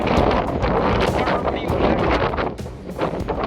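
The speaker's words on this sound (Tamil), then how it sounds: "செம்ம காற்று அடிக்குது இங்கே" Strong wind on a 3500-foot mountain, Rangamalai, roars and buffets the microphone continuously, a loud broadband rush with gusty swells.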